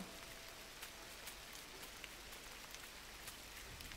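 Steady rain falling in the video game Gris, a soft, even hiss that stays faint and constant throughout with no voices.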